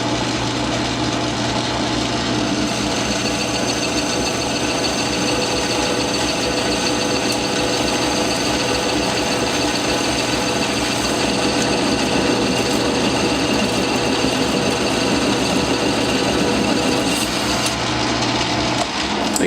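A small lathe takes a steady metal cut with a negative geometry toolholder, giving a continuous whining, grinding machine tone that stays constant and close for the whole stretch, with no voices over it.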